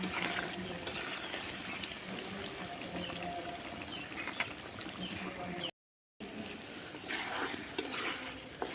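Chicken meat sizzles in a pan on a new stove, a continuous close frying hiss with stirring scrapes and a brief dropout partway through.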